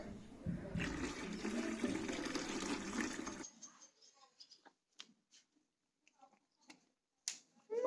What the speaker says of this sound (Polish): I teraz uzupełnianie wody.